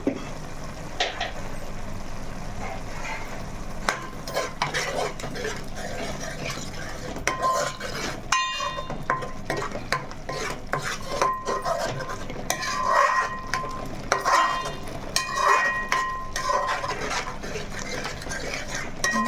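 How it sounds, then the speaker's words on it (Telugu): Ginger, tomato and chili powder masala frying in a pan while being stirred, a spoon scraping and clinking against the metal repeatedly over a soft background sizzle. "చక్కగా వేగుతుంది మసాలా అల్లం టమాటా అన్నీను"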